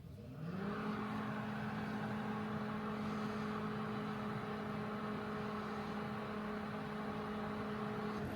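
A microwave oven starts up and hums steadily, a constant electrical drone with a fan whir that runs unchanged to the end, powered by an EcoFlow Delta 3 Plus power station.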